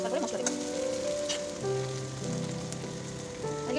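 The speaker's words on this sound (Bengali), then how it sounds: "ভালো করে একটু কষে নেবো" Crushed ginger and garlic paste sautéing in a pan for a Bengali home-cooked dish, a steady soft sizzle with faint stirring throughout, with background hum and tones.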